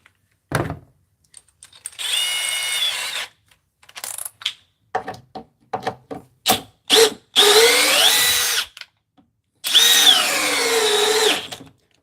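A DeWalt cordless drill runs at speed 2 in several separate bursts of whirring of varying length, with clicks and short taps between them, close up with no talking.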